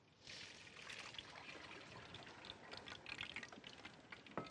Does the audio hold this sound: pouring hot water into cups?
yes